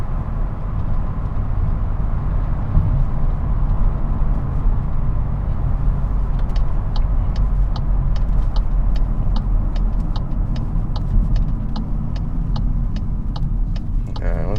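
A 2022 MK8 Volkswagen Golf R DSG hot hatch drives under load with a loud, dense low engine drone and road rumble, joined midway by a run of sharp rapid ticks or pops.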